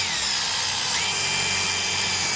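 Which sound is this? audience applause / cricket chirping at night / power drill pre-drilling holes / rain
power drill pre-drilling holes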